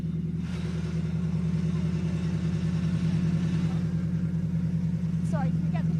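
A Subaru rally car engine idles steadily with a low, even rumble at a stage of the 2023 PowerPlay Adelaide Hills Rally, close and continuous, with a faint voice and a couple of brief high chirps near the end.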